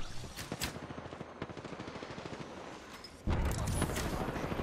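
Rapid automatic gunfire in the battle royale shooter Apex Legends, a steady stream of sharp shots that swells louder and denser near the end, with no talk over it.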